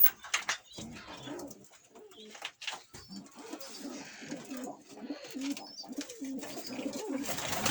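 Van pigeons coo steadily in a loft holding young birds, low rolling calls repeating close by and overlapping one another, with a few soft thumps and rustles at the start.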